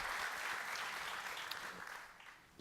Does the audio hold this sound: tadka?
no